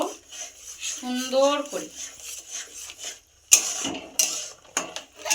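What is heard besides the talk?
stirring semolina into milk in a pan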